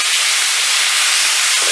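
Curry-seasoned goat cubes searing in hot oil, giving a loud, continuous, close-up hiss that stays even for the whole brief moment.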